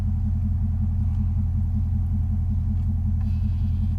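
A Mercedes-Benz car engine idles steadily nearby, giving a continuous low rumble with a faint periodic pulse and no revving or speech over it.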